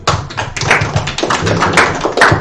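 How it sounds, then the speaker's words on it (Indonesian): A short round of applause from a small group at a village smart-innovation workshop, with quick, loose hand claps pattering close by for a couple of seconds. "Tepuk tangan dulu."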